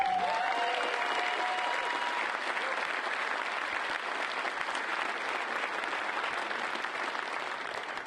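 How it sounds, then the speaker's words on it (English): A crowd at the DEF CON 19 hacking conference closing ceremonies claps for eight seconds, a broad, sustained roar of applause filling a large hall. A faint tonal hum sits under the first second. "So if you can give them a quick round of applause."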